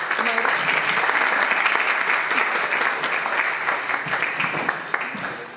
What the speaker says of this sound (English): can we have a round of applause for Elish Angel Zohaib?